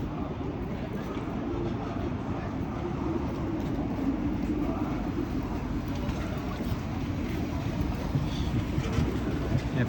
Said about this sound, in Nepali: मजाले ट्रेन आयो अब।